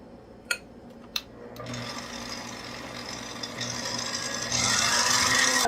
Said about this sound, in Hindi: अब दोबारा से इसे फिर व्हिप करेंगे।